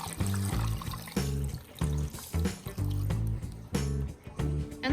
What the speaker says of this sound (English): And we need to add 3 cups of water.